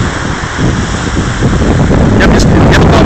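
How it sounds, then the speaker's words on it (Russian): Stormy sea surf and strong wind on Chaweng beach, Koh Samui, forming a steady, dense roar of breaking waves with heavy wind buffeting close to the microphone throughout. "Море сегодня тут немного штормит."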